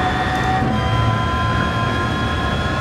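Aston Martin Vulcan engine in Gran Turismo 7, a loud, steady in-car drone with sustained high tonal whine running throughout at near-constant volume, no talking over it.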